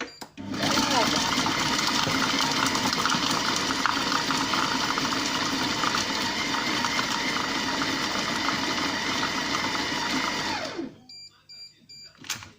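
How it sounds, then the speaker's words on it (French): A Compact Cook Pro kitchen robot runs its chop program at speed 4, a loud steady motor whir with a gritty chopping rattle that holds for about ten seconds before cutting off abruptly. "Sélectionnez le programme haché, réglez sur la vitesse 4 et lancez le programme."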